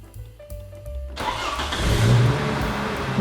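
A Volvo 850 engine cranks and catches, then settles into a steady rumbling run, close by and loud, with no talking.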